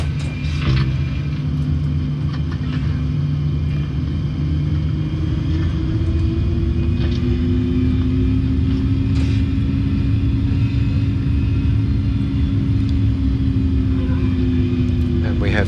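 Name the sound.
Boeing 737 taxiing to the runway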